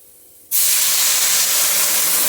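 Water poured into a hot pan of plum chutney makes a sudden loud hiss that bursts in at once and holds steady and strong, with no talking.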